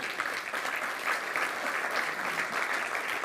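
Steady, moderately loud audience applause during a talk explaining the XRP ledger, sounding like many hands clapping in a hall with no break over a few seconds.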